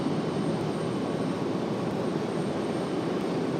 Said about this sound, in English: the 777 on the way out